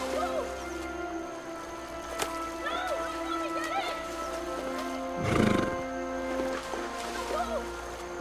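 A horse whinnies several times in a Western-style standoff scene, its calls rising and falling over a steady background, with a louder burst of movement midway and faint speech-like sounds in places.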